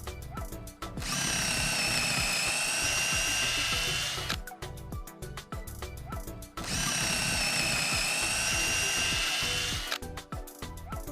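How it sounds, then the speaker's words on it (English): A power drill whines loudly through a metal gate's mounting bracket, drilling carriage bolt holes in two long steady runs, separated by short pauses of clicking and rattling handling noise. "We're now about to drill the holes for the carriage bolt"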